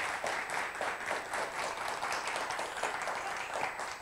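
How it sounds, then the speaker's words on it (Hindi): A crowd applauds the Indian Navy continuously at an anniversary celebration, many hands clapping in a dense, even patter that holds steady throughout. "तो एक बार हम इंडियन नेवी को तालियां देंगे"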